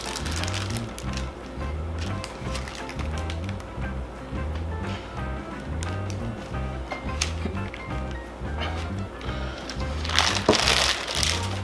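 A beef burger patty being pressed flat on a Weber kettle grill, with steady repeated crushing and sizzling scrapes close up, and a louder burst of sizzle near the end.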